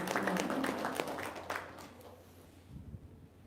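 An audience at an Islamic talk claps for Pak Haji, a short burst of fairly quiet applause that fades away within a few seconds.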